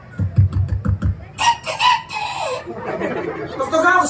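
A performer at a live show in Zamboanga del Norte imitates a small bantam rooster's crow with his voice, a quick series of short clucking bursts followed by a stretched, rising crow, loud and close.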